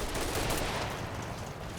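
Suppressive gunfire from soldiers in the Combat Mission war game set in Operation Epsom, a dense continuous crackle of rifle and machine-gun shots filling the whole moment, loud and close with no talk.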